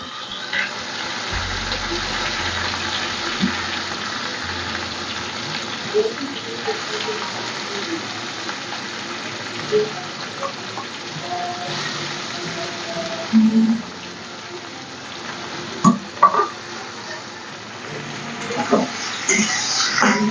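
Salted, squeezed ash gourd pieces frying in a pan over a raised flame give a steady, close sizzle with a few clinks and brief louder bursts, and a voice speaks at times.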